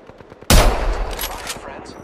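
Video game gunfire breaks out suddenly after a quiet moment with faint voices, then becomes a loud, sustained rattling roar of shots that continues to the end.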